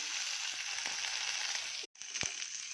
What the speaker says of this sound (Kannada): ಸ್ವಲ್ಪ ಗೋಡಂಬಿ. ಇದನ್ನು ಸ್ವಲ್ಪ ಬಾಡಿಸ್ಕೊಂಬಿಡೋಣ. ಸ್ವಲ್ಪ ಫ್ರೈ ಆದರೆ ಸಾಕು.